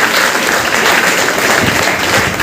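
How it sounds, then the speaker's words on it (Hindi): A loud, continuous burst of crowd applause at a political meeting in Basti honouring top leaders, a thick wash of many hands clapping together throughout. "मैं चाहूँगा आप सभी लोगों के लिए एक जोरदार ताली होनी चाहिए।"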